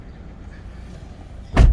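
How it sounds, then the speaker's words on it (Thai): The door of a 2002 Honda CR-V 2.0 E i-VTEC 4WD shuts with a single close, solid thump near the end, after a quiet stretch of low cabin rumble. "ผมปิดประตูเลยนะครับ"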